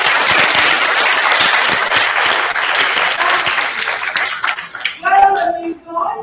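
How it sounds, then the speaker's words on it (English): A large audience at a school event gives a long, loud round of applause with many hands clapping densely, fading toward the end as voices begin to talk. "Let's just hear a nice big clap"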